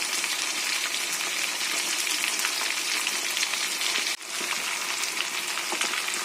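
Food sizzles steadily in a hot pan, a dense continuous crackle close up with a brief dip midway as it is stirred, and no voices.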